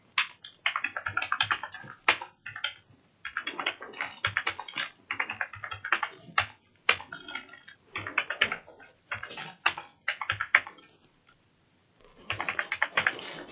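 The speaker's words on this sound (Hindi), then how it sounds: "आपको कुछ लोगों के नाम टाइप कर लेता हूँ।" Keys clatter steadily on a computer keyboard as names are entered into a spreadsheet, coming in quick bursts with short pauses between words, close and clear with no talking.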